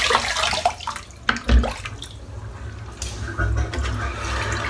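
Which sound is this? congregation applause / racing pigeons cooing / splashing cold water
splashing cold water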